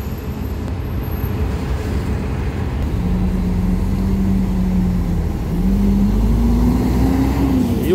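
A bus idles and pulls out at the Belo Horizonte bus station, with a loud, steady engine rumble that rises in pitch as it moves off, surrounded by terminal noise.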